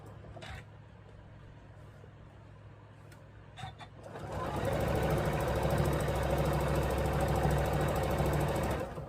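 Sewing machine stitching a quilt block, starting after a few soft clicks and running steadily at a loud, even hum for the last five seconds, with no talk over it.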